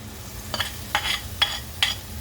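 Finely chopped tomatoes land in a pan of frying onion masala for an Indian gravy, sizzling softly with several short, evenly spaced bursts as the mixture is stirred.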